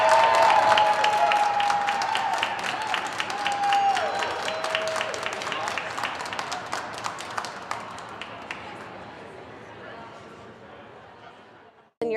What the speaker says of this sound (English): You hear some cheering behind me